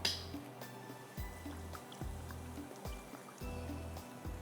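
Soy sauce poured into a pan while making Chinese-style shashlik, a quiet liquid trickle and drip that comes in several short bursts with low thumps from the bottle, close by, and no voices.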